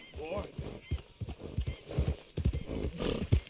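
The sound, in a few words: horse in the video game Red Dead Redemption II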